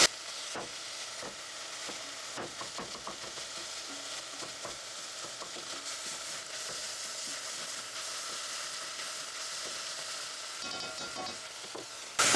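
Vegetables and garlic sautéing in a pan give off a steady, fairly quiet sizzle, with scattered clicks and scrapes from stirring throughout.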